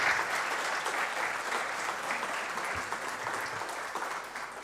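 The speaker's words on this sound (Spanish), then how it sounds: "Un aplauso más fuerte entonces para esta hermosa audiovisual." Strong, sustained applause from an audience at a documentary series premiere on Chilean indigenous cultures, a dense continuous roar of clapping that stays loud and gradually eases slightly.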